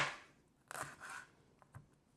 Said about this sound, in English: I'm just going to chop this up in little small pieces